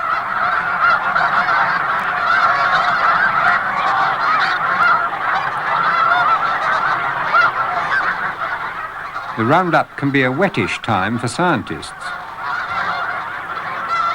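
A large mixed flock of Canada, blue and snow geese, some 5,000 birds gathered on water for a banding roundup, honks as a steady dense chorus throughout, with someone narrating over it in the latter part.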